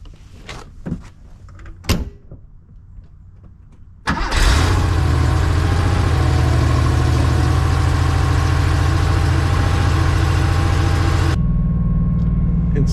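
Cold Porsche 911 SC engine idling fast at about 2,000 RPM on a frigid morning, a steady loud droning rumble that starts abruptly after a few quiet knocks and holds alone until a slight drop near the end.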